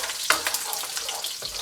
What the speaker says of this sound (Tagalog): So, gisa tayo ng garlic.